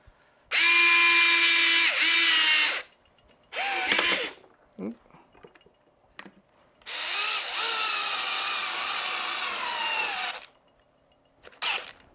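A Fanttik electric screwdriver at max power drives a 3-inch screw, its loud whirring motor running in several bursts, straining and slowing as the screw stalls, with short gaps and brief talk between runs.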